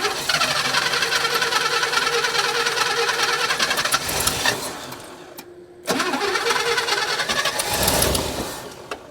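An old International pickup truck engine cranks and catches, then runs with a loud, rough idle and some squealing, dropping out briefly before surging again.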